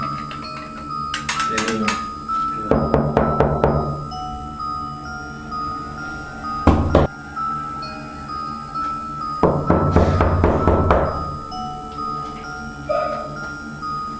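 Several bursts of knocking on a house door, each a quick run of sharp raps separated by pauses, with faint background noise between them.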